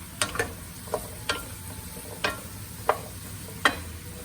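Sliced zucchini sizzle in a pan while a utensil scrapes and stirs them, producing about seven sharp clicks and scrapes at irregular intervals over a soft, constant frying hiss.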